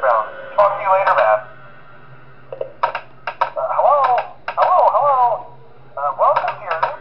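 A phone call plays in the video game Five Nights At SMG4, a filtered, radio-like voice speaking in bursts with short gaps over a low steady hum.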